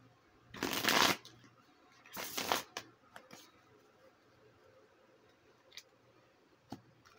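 Two loud bursts of tarot cards being shuffled close by, then a few faint ticks and soft handling sounds in a quiet room.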